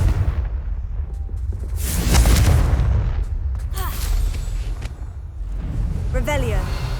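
Confringo blast spells exploding in the Hogwarts Legacy video game, several loud booming bursts with crackling tails in quick succession, layered over dense game sound and voices.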